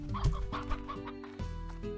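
Brief burst of clucking from Slime Rancher game hens, close and clear over a sustained musical drone.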